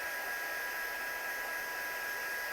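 A hair dryer blows on freshly painted areas of a handmade card, producing a constant, even rushing hiss with a thin steady whine and no breaks.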